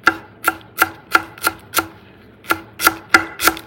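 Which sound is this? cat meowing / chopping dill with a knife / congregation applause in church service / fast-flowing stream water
chopping dill with a knife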